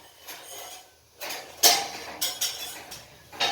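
A metal spatula (khunti) scrapes and clinks against a kadai pan in a few irregular bursts, close and moderately loud, with quiet gaps between strokes.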